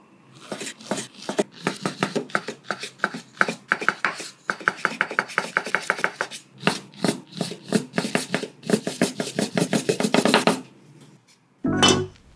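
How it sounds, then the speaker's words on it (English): A knife pushes through floured homemade udon noodle dough on a cutting board in a fast, steady run of close, crisp chops that pause briefly midway, stop near the end, and give way to a short final clatter. "When you cut, you should also dust the cutting board firmly and use the knife by pushing it from the back to the other side"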